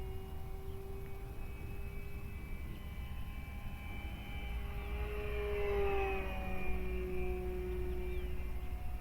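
An FMS Ranger 1220mm electric RC plane on a 4S battery flies overhead on a calm day, giving a thin, whining motor tone that rises and bends in pitch as it passes, getting slightly louder midway.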